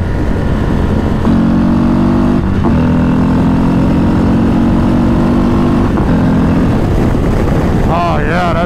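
A 2024 Harley-Davidson Road Glide CVO ST motorcycle accelerates through the gears at around 4,000 RPM. Its loud engine drone rises and drops at the gear shifts under heavy wind rush, heard from the rider's position.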